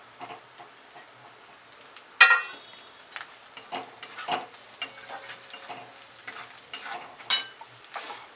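Slit green and red chillies roast in a pan for paneer chilli dry, with soft sizzling and intermittent scraping stirs and a sharper clatter of the spoon against the pan partway through.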